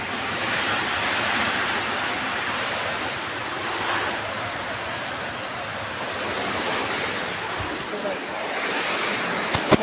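Typhoon Uwan's strong wind and crashing waves roar outdoors in a steady, loud, unbroken wash of noise, with gusts buffeting the microphone throughout.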